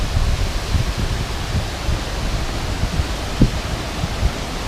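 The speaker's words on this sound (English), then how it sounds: "We're here, we're at the final big waterfall" The final big waterfall at Gwaun Hepste roars as a steady, dense wash of falling water, loud and constant with faint rustling and no voices.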